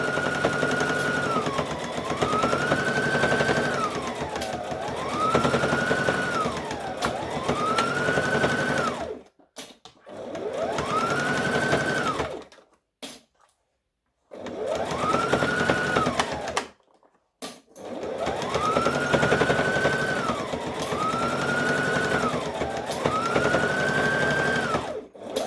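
A sewing machine backstitches a hoodie seam at close range. The motor hums in repeated rising and falling runs, with brief pauses between bursts of stitching.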